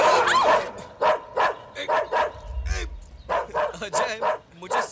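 A dog in a Bollywood film scene barks in a series of short, evenly spaced yaps mixed with whimpers, loud and close throughout, with a brief low rumble in the middle.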